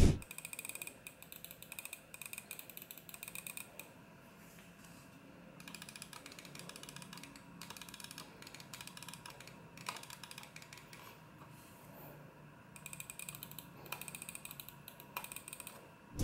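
Sharp clicky switch presses from an Ajazz AJ159 APEX gaming mouse, a run of crisp separate clicks at close range, irregular and fairly quiet, heard alone without any talk.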